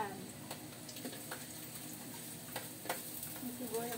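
Onions sautéing for sopas give a soft, steady sizzle in a pan, with occasional light ticks and clicks of stirring, faint and close.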